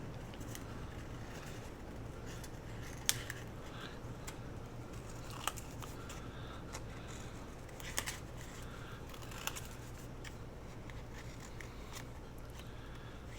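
Small scissors cut around paper for a journal page: faint, sparse snips and clicks spaced every second or two over a quiet room background.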